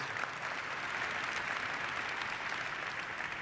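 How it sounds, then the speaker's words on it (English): Applause from the audience at the UNHCR Nansen Award ceremony, a continuous, fairly distant patter of many hands clapping with no break. "And that deserves an applause."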